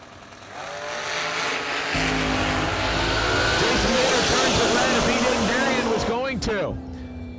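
A chassis dragster launches hard down the drag strip at a New Year Nationals race, its engine roaring loud and sustained for several seconds before a sharp rising burst near the end, with an announcer talking over it.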